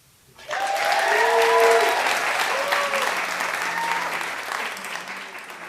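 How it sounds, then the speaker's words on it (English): At a live recorded show in Wellington, an audience breaks into sudden loud applause for guest Shelley, with whoops and cheers over the clapping that fades slowly. "Everyone, please, a big round of applause for Shelley."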